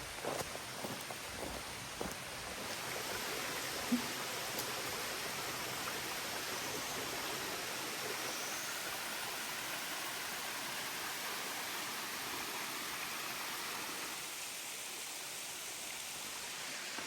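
A waterfall on Koh Chang island in Thailand roars as steady broadband rushing water, close and constant throughout, with a few faint footsteps or knocks early on and no talk.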